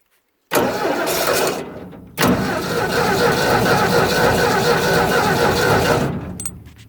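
A cold engine-driven 302 air compressor cranks, catches briefly, then starts again and runs loud and steady nearby. The rough engine roar goes on until the end.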